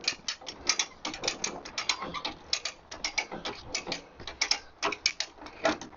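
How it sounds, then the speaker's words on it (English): A hand winch ratchets in quick, uneven bursts of clicking as a 1955 Triumph TR2 body tub is lifted, each pull of the arm sending a rapid pawl rattle, close and fairly loud. "Some leverage through the arm on the winch. Pulls it right up here"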